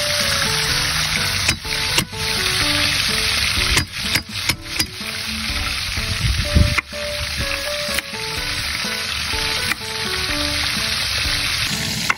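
Loud, continuous sizzling of fish frying in a hot pan, with occasional clatters of a utensil stirring, and no talking.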